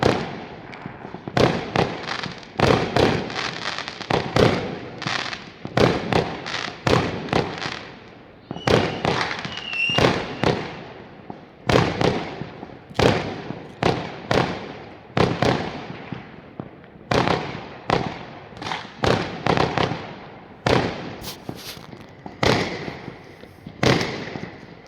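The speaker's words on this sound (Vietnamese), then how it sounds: "Kiếp ồ cái pháo đó nổ rồi" Fireworks burst over and over on New Year's Eve, a dense run of sharp, loud cracks and booms coming in quick irregular volleys, some near and some farther off, with no voices heard.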